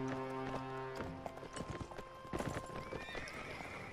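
Horses in Mount & Blade Warband on PS4, with a loud neigh at the start followed by a rapid scatter of galloping hoofbeats building over a battlefield din, and no clear speech.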